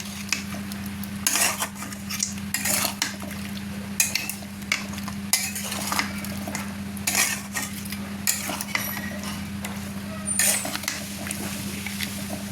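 Mutton curry being stirred in a pan, with a spoon scraping and clinking against the metal in irregular loud strokes over a steady low hum and faint sizzling.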